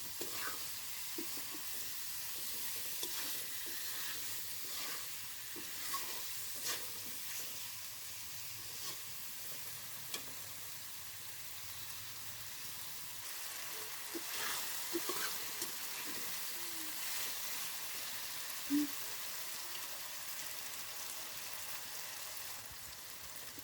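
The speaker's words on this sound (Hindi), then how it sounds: "अब हमने इनको अच्छी तरह से फ्राई कर लेना है।" Potatoes fry in a pan with a tablespoon of salt, making a soft, steady sizzle with faint stirring scrapes that continues evenly throughout.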